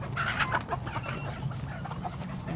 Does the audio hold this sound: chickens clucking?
yes